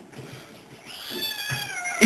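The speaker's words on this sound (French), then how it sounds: "ici c'est Luna, c'est une petite chatte d'1 an" A one-year-old female cat at an animal shelter meows loudly and up close, a single drawn-out, rising cry that swells toward the end, with faint background noise and no talk.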